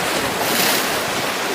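Black Sea surf breaking against rocky cliffs at Cape Tarkhankut in Crimea, a steady loud wash of churning water with wind noise buffeting the microphone throughout.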